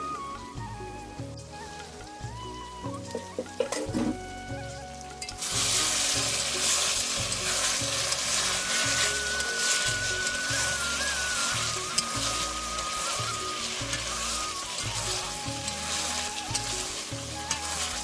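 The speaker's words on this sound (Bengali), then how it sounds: "এখন হলুদ দিয়ে আলুগুলো ভালো করে ভেজে নেব" Potatoes fry with turmeric in a pan at a festive New Year home cooking session, a steady loud sizzle that swells suddenly partway through and then holds constant, close by with faint background clatter.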